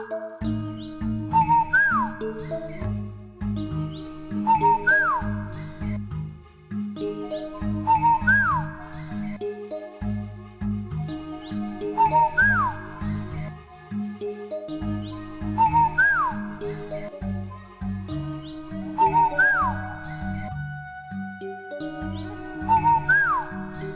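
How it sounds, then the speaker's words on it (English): In an animated fairy tale, the nightingale's song comes as a bright whistled melody repeating in regular phrases over soft instrumental backing, with no speech. "The emperor was happy to hear the nightingale's song"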